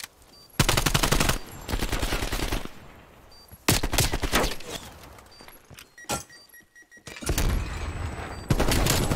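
Loud bursts of automatic gunfire in Black Ops Cold War Search and Destroy, several rapid volleys of close shots separated by brief gaps, with a few lighter mechanical clicks in between.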